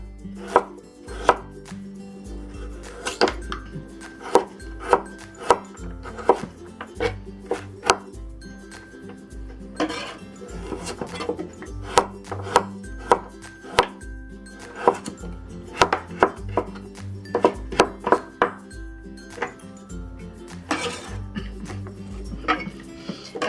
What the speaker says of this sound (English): Next, let's slice the onions. That's here also. And the carrot will also slice.